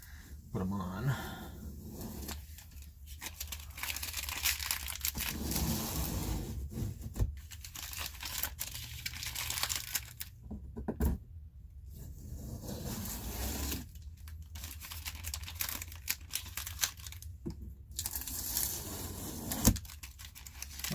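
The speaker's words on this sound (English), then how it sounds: "Try to take the piece of tape off" Tape being peeled off during small bedroom repairs, close crinkling and tearing strips that come in several long stretches separated by short pauses, with no talking.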